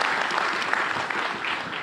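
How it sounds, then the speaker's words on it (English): An audience applauds the Finance Minister at a GST conclave, steady dense clapping throughout with no speech over it. "So do applaud the Finance Minister for that as well."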